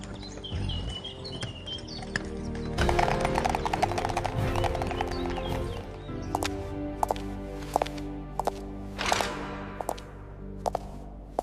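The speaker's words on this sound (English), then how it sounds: "She climbed into the carriage, and they rode to the royal palace." Hooves of a horse-drawn carriage clip-clop in an even rhythm of sharp knocks over a musical backing, with birdsong faintly present.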